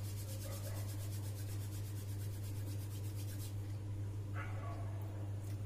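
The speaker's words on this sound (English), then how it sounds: "Rub your hands." In a nursery-class warm-up, children rub their hands together, making a soft, continuous dry swishing over a steady low hum that thins out toward the end.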